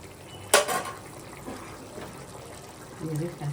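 Hot water is poured into a pan of mutton curry, making a brief splashy gush near the start that fades to a quiet simmer, with a voice speaking toward the end.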